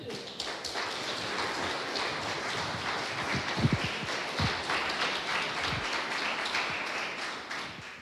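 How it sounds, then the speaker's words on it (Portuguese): A church congregation applauding during a sermon, a soft, sustained patter of clapping with scattered sharper taps and knocks, fairly distant and without voices. "Você pode aplaudir o Senhor?"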